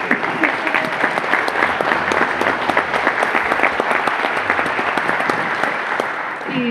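Sustained concert audience applause, dense and steady clapping from a crowd, loud and continuous throughout.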